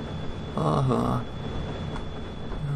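A train in the video game Farming Simulator 2013 gives a short horn-like tone over a steady rumbling rail noise, moderately loud, with no talking.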